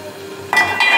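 Onion with a spoonful of garlic ginger paste fries in a pan. A steady soft sizzle runs under two sharp clinks of a spoon against the metal.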